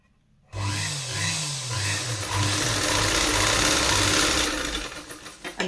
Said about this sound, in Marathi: हा चौकोनी गळ्याला मी टीप मारून आणली